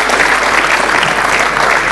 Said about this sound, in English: one final round of applause for our great jury